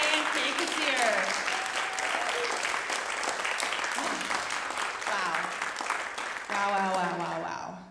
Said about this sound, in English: let's give a big round of applause for all of our artists tonight